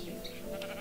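A sheep in the Minecraft video game gives one short, faint bleat lasting under a second, low in the mix and heard on its own.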